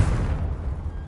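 A Confringo blasting spell explodes in the Hogwarts Legacy video game, a loud, deep, rumbling boom that fills the brief moment and fades slowly, with no talk.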